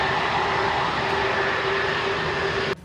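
Fighter jets in flight, a steady loud roaring whoosh with a faint whine, sustained and unbroken before cutting off abruptly at the end.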